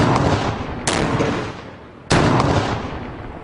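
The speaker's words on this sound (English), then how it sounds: "They create an explosion, but no ignition." Two loud, sharp explosive blasts about a second apart, each followed by a decaying rumbling roar, standing alone with no voices over them.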